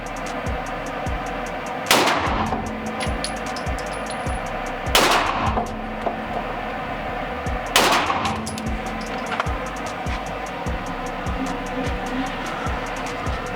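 Three loud gunshots from an iron-sighted firearm at an indoor shooting range, spaced about three seconds apart, each a sharp, reverberant crack over a constant hum of range ventilation and a ticking mechanical rhythm.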